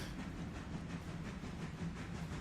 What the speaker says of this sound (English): Yep, there's my train.